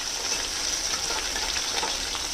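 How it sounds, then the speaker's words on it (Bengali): Snakehead fish fries in oil with a continuous bright hiss, close and even throughout, with no talking. "হালকা করে ভেজে নেব শোল মাছ"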